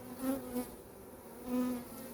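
Honeybees from a weak winter colony buzz on a frame after being disturbed from their cluster, a close, steady drone that swells twice in short surges, with no talk.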